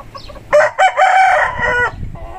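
Fancy chickens squabble close by with loud, harsh squawks and cackling calls in a couple of strong bursts, trailing off into softer clucks.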